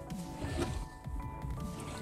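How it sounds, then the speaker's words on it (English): Water is poured onto potted Phalaenopsis orchids on watering day, making a continuous close splashing and squishy gurgle as it soaks into the pots, with faint talk at moments. "I don't know if you guys enjoy watching me just pouring water like this."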